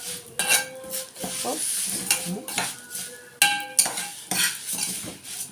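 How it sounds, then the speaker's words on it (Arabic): Vermicelli is stirred in a metal pot, with uneven scraping strokes, sharp clinks of a utensil against the rim and a light sizzle under them, close and fairly loud; a word or two is spoken briefly. "نقلب في الشعريه اهي"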